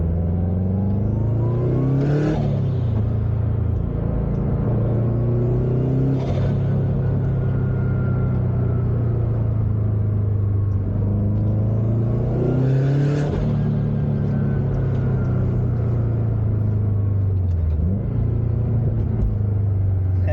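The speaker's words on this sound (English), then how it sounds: "Just cracking that wastegate open." A turbocharged Subaru STi engine with a billet VF48 turbo rumbles and revs up repeatedly in surges, each rise followed by a sharp hissing whoosh as the wastegate opens, heard up close with no talking.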